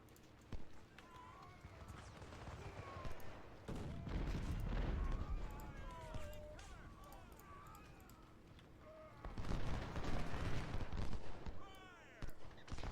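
Musket volleys and battlefield din from the Civil War strategy game Ultimate General: Civil War, a continuous rumbling crackle of gunfire in two heavier waves, with someone talking over it.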